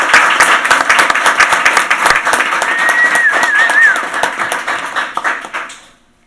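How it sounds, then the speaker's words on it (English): An audience at a town board meeting claps in a loud, dense burst of applause for volunteers that holds steady for several seconds and then tapers off to silence. "good round of applause for all of our CAP volunteers"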